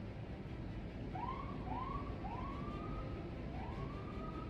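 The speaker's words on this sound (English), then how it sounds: "there's a siren" A wailing siren rises and falls several times in the distance, fairly faint over a steady rumble of background noise.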